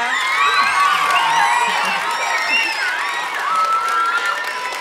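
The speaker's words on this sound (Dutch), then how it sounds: "Mag ik nog één keer een heel groot applaus voor Ini en Annemette." Children at a university children's lecture in Tilburg clap and cheer together, with high shouts and whoops over dense, steady applause that fills the room throughout.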